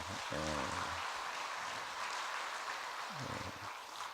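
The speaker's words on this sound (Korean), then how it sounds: "우리 성가대에 위해서 한번 격려 박수 한번 보내주세요." A church congregation applauds its choir during a service: a steady, even wash of clapping that runs throughout, fairly soft and distant, with a few short voice fragments over it.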